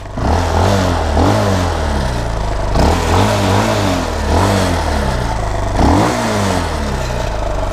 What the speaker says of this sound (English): About to take a ride on the Supermoto.